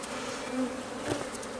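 Honeybees hum steadily at an open hive during a nucleus inspection, a soft continuous buzz with no talking.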